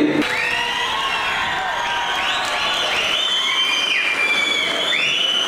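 A large crowd cheers and whoops with sweeping whistles over steady clapping and roar at the inauguration of a devotees' hall at the Kaginele Kanaka Guru Peetha branch math in Bengaluru, continuous and loud throughout.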